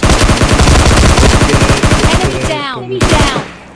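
Automatic gunfire in the PUBG video game, with loud, rapid bursts of shots close by that give way to shorter shots and a whooshing effect.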